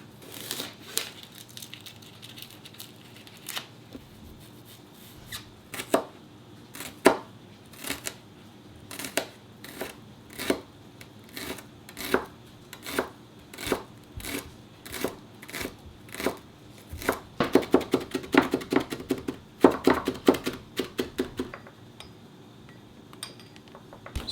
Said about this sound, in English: we're gonna mince